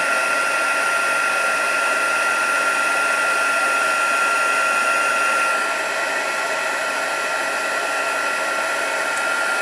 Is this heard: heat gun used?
yes